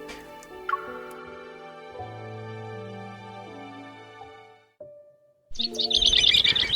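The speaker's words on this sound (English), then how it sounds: "In that hazy state between sleep and being conscious, I hear birds chirping." Birds chirp loudly and rapidly in the last second, a bright cluster of tweets cutting in after a stretch of sustained musical tones and a brief pause.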